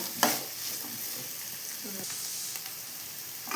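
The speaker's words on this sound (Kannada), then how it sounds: "ಈರುಳ್ಳಿ ಫ್ರೈ ಆಗಿದೆ" Onions frying in a pan for bitter gourd gojju, a soft, fairly quiet sizzle with an early clack of a utensil and a brief stirring scrape midway.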